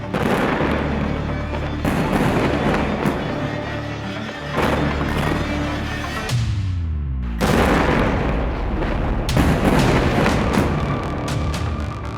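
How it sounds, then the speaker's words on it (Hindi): Repeated heavy booms of bomb explosions in the Israel–Hamas war roll out in loud, overlapping bursts with rumbling tails, one followed by a falling whistle-like sweep, filling a continuous, dense din. "गाजा से लेकर इजराइल का आसमान बम की आवाज से कांप रहा है"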